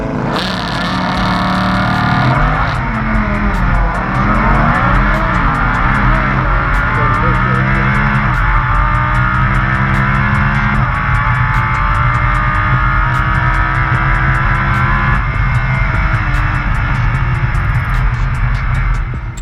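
A Lamborghini Huracan drag races a McLaren in Corsa track mode, a loud, sustained engine roar with rising revs and gear shifts dominating throughout, close to the microphone.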